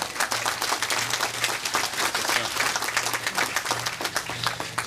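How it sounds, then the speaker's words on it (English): Dense, steady applause from an outdoor crowd fills a Hurricane Ian one-year remembrance gathering at Bay Side Park, holding at an even, moderately loud level throughout without a break. "please give a round of applause"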